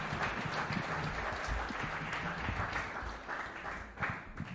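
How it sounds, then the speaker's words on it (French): A crowd applauds steadily at an indoor testimonial event honoring a footballer, a dense continuous patter of many hands clapping that stays fairly even throughout without speech. "Est-ce qu'on peut encore une fois applaudir Gilles?"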